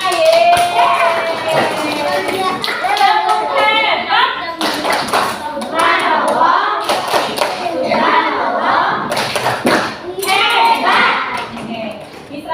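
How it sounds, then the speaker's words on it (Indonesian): Third-grade schoolchildren in a classroom clap their hands together, a steady run of claps under lively voices and chatter, close and loud throughout. "Tepuk tangan buat kita semua"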